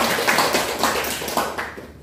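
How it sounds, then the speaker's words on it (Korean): Audience in a Buddhist meditation hall at a summer retreat opening ceremony clapping to welcome the hall leader, a short burst of scattered, fairly close hand claps fading out after two seconds. "여기 입승을 저희가 박수로 초대하겠습니다."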